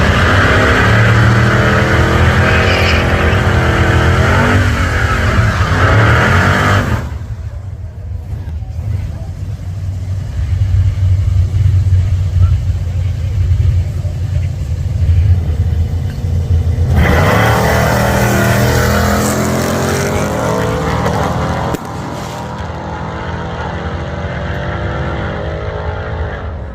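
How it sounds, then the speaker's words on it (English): Loud, close engine roar from a Chevy Luv pickup and a Mustang drag racing at Coos Bay, Oregon, revving hard in two long bursts separated by a quieter idling stretch, with talk mixed in throughout. "My buddy's racing this Mustang again."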